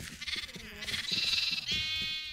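Several sheep bleat in a video game, wavering nasal cries following one another, close and fairly clear over a light background.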